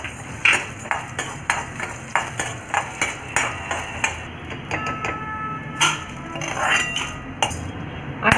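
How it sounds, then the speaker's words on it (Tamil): A metal spoon scrapes and taps against a pan in a steady rhythm of clinks, close by, as dry urad dal lentils are stirred and roasted in a little oil. "ஒரு கடாயில் கொஞ்சமாக எண்ணெய் விட்டுட்டு ஒரு டேபிள் ஸ்பூன் அளவு உளுந்து போட்டு வறுத்துக்கோங்க."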